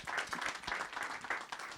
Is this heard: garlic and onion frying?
no